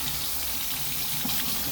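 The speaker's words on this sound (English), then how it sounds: "I like to wet it with warm water." Warm water runs steadily from a household faucet to wet a plain wash rag, a close, continuous splashing stream at sink level with no talking.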